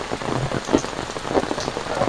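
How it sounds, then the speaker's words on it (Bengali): Heavy rain pours down in a rural Bangladeshi homestead yard near a cow shed, a loud continuous downpour with dense patter and scattered louder drips and splashes close by, no speech. "প্রচণ্ড বৃষ্টি হচ্ছে"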